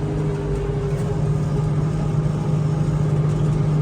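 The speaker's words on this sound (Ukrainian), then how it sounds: "Взагалі трактор йде без напряга." A tractor ploughing a field at night after soybeans, its engine holding a steady, loud, even low drone with a constant hum and no voices.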